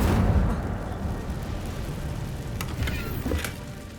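A burst of fire from the Incendio spell in Hogwarts Legacy, cast inside a cave full of spiders: a loud roaring whoosh that fades over a few seconds into a crackling hiss, with a couple of faint sharp clicks near the end.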